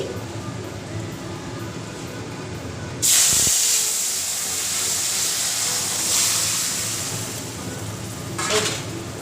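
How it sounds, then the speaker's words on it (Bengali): Vegetables for an aloo-phulkopi jhol with dried lentil bori hit hot oil tempered with panch phoron and bay leaf, setting off a sudden loud hissing sizzle that swells and then settles into a steady roar over a background of low kitchen noise. "পাঁচফোড়না তেজপাতা এবং তেল খুব সুন্দর গরম হয়ে গেছে এবার আমি তরকারিটা এর মধ্যে দিয়ে দিচ্ছি"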